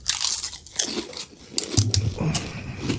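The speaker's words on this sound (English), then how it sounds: "I'm gonna eat another couple chips to kill the pain." Crunchy chips bitten and chewed up close, with sharp crackling bursts in an uneven rhythm and a brief low murmur partway through.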